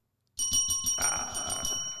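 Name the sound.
quiz bell rung after a correct answer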